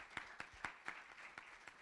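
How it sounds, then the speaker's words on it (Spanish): Faint, evenly spaced claps from a few hands at a panel on victims of violence, tapping out a steady beat of about eight claps and heard distant and quiet. "¿Le damos un aplauso?"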